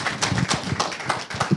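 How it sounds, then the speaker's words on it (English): An audience at a marketing panel in a speaker series applauds three panelists with steady, dense clapping that fills the moment from start to end, fairly close and with little talk over it. "let's give them a round of applause"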